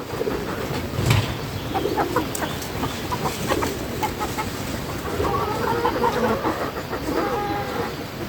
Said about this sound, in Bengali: আমি একটু মুরগিগুলোর একটু ডাক শোনাই